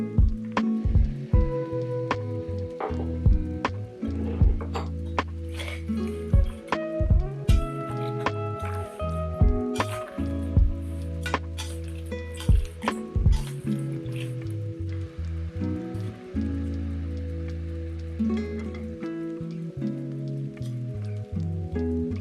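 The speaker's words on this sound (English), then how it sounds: "I'm going to drizzle on some of that honey mustard dressing and just mix it in" Romaine lettuce salad being tossed with honey mustard dressing in a bowl, heard as a steady run of close, wet squishing and dripping taps with soft leafy rustling.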